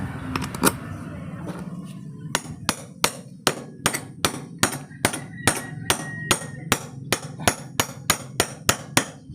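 Steady, evenly paced hammering on an electric fan motor rotor while replacing a part. About twenty crisp metallic taps come close together, preceded by a few scattered hits, close and clear with no voices.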